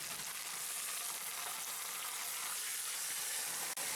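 Beef roast searing in a cast iron pot, a steady, close hiss of sizzling fat that carries on evenly, with a faint stir or scrape partway and a brief dropout near the end.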